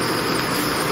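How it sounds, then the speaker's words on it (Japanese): Near a beehive, insects keep up a dense, continuous high whine with no break in loudness, with a Japanese giant hornet arriving among them. "あ、来たスズメバチ。"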